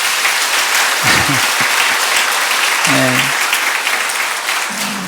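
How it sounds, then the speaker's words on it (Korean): Church congregation breaking into loud, sustained applause for a pastor being introduced, with someone speaking briefly over the clapping. "박수로 하나 하겠습니다."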